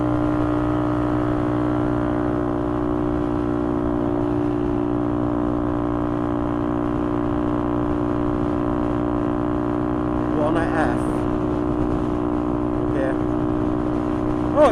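A motorcycle exhaust drones steadily while riding at around 50 mph and 7,500 RPM, a constant harmonic engine tone mixed with wind noise, loud and close throughout with a brief burst near the end.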